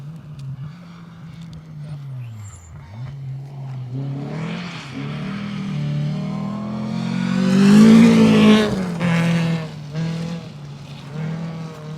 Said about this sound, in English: And another of the little Ford Fiestas.